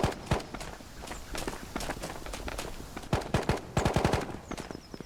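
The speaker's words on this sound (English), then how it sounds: "we hear some gunshots" Gunfire in the Ghosts of Tabor VR shooter game: bursts of sharp gunshots ring out among footstep-like thuds, with a loud cluster near the start and a rapid volley toward the end.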